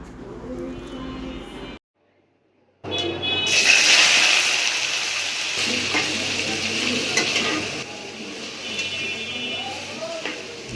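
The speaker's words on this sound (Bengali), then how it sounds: "এইদিকে আমি হচ্ছে মিষ্টি কুমড়া ভাজি করতেছি" Sweet pumpkin is stir-fried in a pan with loud, close sizzling and scraping stirs, following a voice at the start and a brief silent break.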